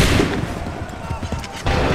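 Musket volley on an Assassin's Creed 3 battlefield, a short ragged burst of many shots under shouted voices and surrounding battle noise.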